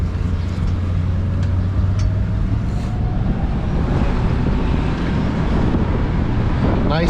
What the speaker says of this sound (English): I'll go for a quick little drive.